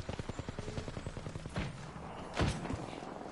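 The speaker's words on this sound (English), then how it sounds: "I'm taking fire." Rapid automatic gunfire in the battle royale game Apex Legends, a fast even stream of shots followed by a couple of heavier single blasts, moderately loud with no speech.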